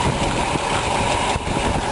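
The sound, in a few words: 1965 Ford Mustang GT 289 V8 engine idling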